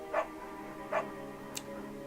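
A beagle in the game Firewatch gives two short barks about three-quarters of a second apart, moderately close over a low steady background hum, followed by a faint brief high sound.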